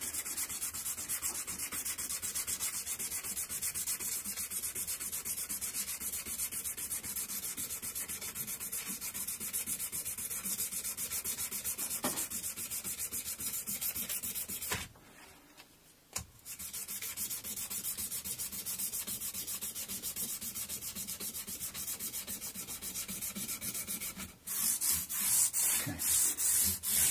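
Light abrasive rubbing runs lengthwise across the frets of a metallic black Squier Affinity Stratocaster to remove scratches, making continuous close scratchy strokes with two brief pauses.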